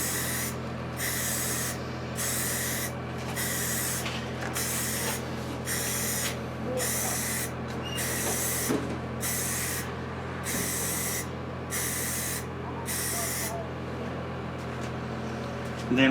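Primer sprays from an aerosol can onto a Razor go-kart in a dozen rhythmic, evenly spaced hissing bursts with short pauses between them, close up over a low background hum.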